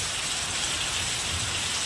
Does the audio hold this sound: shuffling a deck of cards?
no